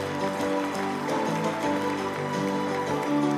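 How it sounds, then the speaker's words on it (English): Audience at an award ceremony giving a round of applause, steady dense clapping from a crowd filling the hall for a few seconds with no break. "Please give a big round of applause."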